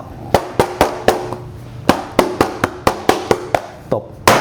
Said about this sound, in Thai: เคาะเคาะไล่ฟองอากาศนะครับ